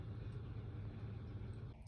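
A campus shuttle bus engine gives a steady low rumble, close and continuous, with no talking.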